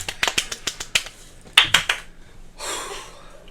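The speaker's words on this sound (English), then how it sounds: "Get a golf clap for the top 5." Soft, sparse claps from a few people, about a dozen light separate smacks in an uneven rhythm, then a breathy rustle near the end.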